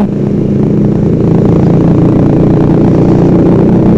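A loud motorcycle fitted with a racing exhaust rumbles and idles steadily nearby, a deep throaty exhaust drone with slight clatter, no talking.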